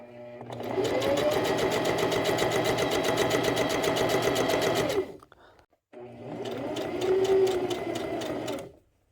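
A sewing machine stitches a ribbon skirt pocket in two loud, steady runs, about five seconds and then three, with a brief pause between them.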